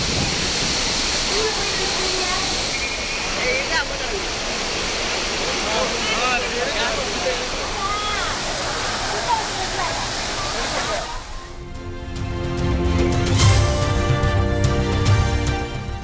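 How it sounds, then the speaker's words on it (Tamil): Courtallam waterfalls pouring steadily with bathing tourists, a loud continuous rushing roar with faint voices mixed in, then shifting to a louder low hum near the end. "வெள்ளம் குறைந்ததை அடுத்து குற்றால அருவிகளில் குளிக்க அனுமதி."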